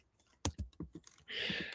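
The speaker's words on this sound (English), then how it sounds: "I was typing something." Several sharp, distinct keystrokes on a computer keyboard tap out an irregular rhythm close by, followed by a brief hissy burst of noise.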